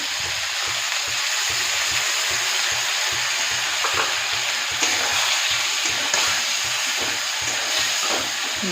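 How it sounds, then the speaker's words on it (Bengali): Ground and paste spices for potato curry sizzle and fry in oil, a steady close hiss with repeated scraping stir strokes throughout. "দিয়ে এটা ভালো করে মশলাটাকে কষাতে হবে যতক্ষণ না তেল বেরিয়ে আসে"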